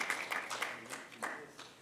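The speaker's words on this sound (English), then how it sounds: "Round of applause, ladies and gentlemen." Audience applause fills a hall with dense, fairly quiet clapping that swells a little in short bursts and then fades.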